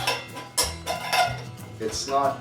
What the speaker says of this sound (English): the cover does fit on the frying pan